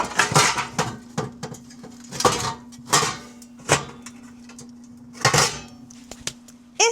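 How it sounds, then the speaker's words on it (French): A metal fire hearth is slid into a Glowen Raptor pizza oven, producing a series of sharp metallic clanks and knocks spaced irregularly over a low, steady hum. "Je viens l'insérer dans mon four Glowen."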